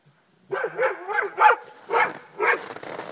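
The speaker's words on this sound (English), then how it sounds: "The dang dog spooked him." A dog barks close by, a run of five or six sharp, slightly whiny barks in quick succession.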